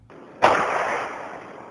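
A single final gunshot from a residential shooting, picked up by a surveillance camera: one sharp, loud crack that trails into a long echoing decay, with no voices.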